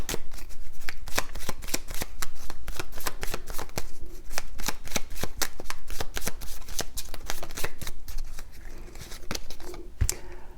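An oracle card deck is shuffled close up in quick repeated riffles and snaps, a brisk rhythmic flutter that runs almost without pause before slowing near the end.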